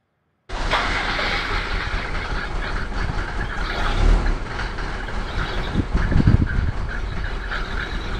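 A Mercedes 190 2.2 diesel engine starts abruptly from cold and runs loud and rough, a dense clattering rumble that holds steady throughout with no talking.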